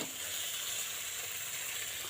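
Pointed gourd frying in oil and spices on a pan gives a steady, close sizzling hiss with a faint steamy edge, constant throughout and with no voices.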